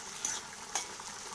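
Steady, close frying hiss of eggplant in fish oil with a couple of brief scraping stirs, no voices.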